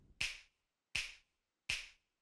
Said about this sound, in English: Then he tends to use these old school drum machine snap sounds like this.